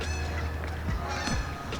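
Geese honking repeatedly and loudly nearby, overlapping calls with a steady background rumble.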